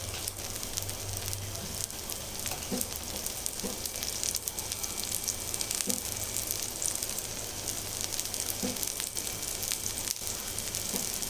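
A lentil adai dosai on a hot pan sizzles steadily as oil is poured over it, a continuous close crackle with small pops scattered throughout and no talking.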